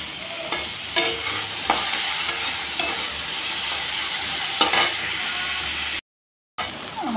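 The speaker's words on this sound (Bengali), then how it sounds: "আমার আলু পেঁয়াজ ভাজা হয়ে গেছে।" Cut potatoes, onions and chopped green chillies fry in a pan with a steady sizzle, broken by occasional scrapes and clinks of stirring, close and continuous apart from a brief dropout near the end.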